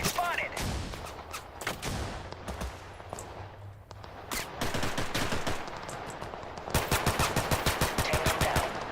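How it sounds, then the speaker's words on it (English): Shotgun and rifle fire crack through a Total Conflict: Resistance battle, with scattered single shots early, then steadier volleys and a fast rapid-fire run near the end, while voices talk over the combat. "they're firing their little shotguns"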